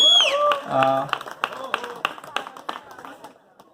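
An audience claps at a stage event, with sharp scattered claps thinning out, heard near and mixed with a voice talking over them.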